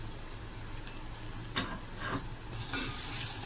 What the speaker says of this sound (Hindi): सबसे पहले हाफ कप ऑयल में प्याज ऐड करते हैं।